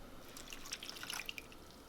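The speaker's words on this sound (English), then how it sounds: "You just add about a half a cup of water." Half a cup of water going into a pan of onions to caramelize them, heard as faint scattered drips and small splashes over a quiet background hiss, with no voices.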